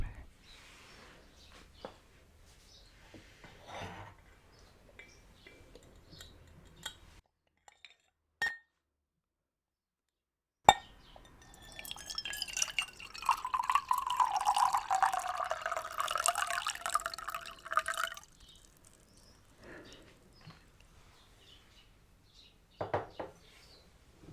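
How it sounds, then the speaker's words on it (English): Water poured into a glass in a quiet indoor therapy roleplay, a soft trickling fill lasting several seconds between gentle taps and clinks of glass, close and faint with no talking. "Do you want a glass of water?"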